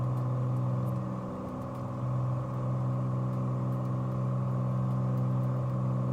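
Single-engine light aircraft in Microsoft Flight Simulator at reduced cruise power, giving a steady, even drone with a low hum throughout and no voice over it.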